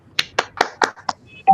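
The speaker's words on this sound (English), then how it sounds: "please give Attorney Chel a big round of applause" A few sharp hand claps, about six evenly spaced and close, from a small group honoring a speaker at a student Model UN valedictory ceremony, with no talk over them.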